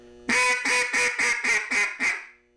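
Duck call blown in a fast cadence, seven loud, evenly spaced quacks in quick rhythm, the first held longest and the last trailing off, close and alone.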